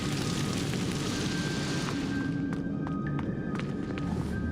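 An Incendio fire spell in Hogwarts Legacy roars as a loud, continuous whooshing blast that fades after a few seconds, followed by a few small pops and crackles.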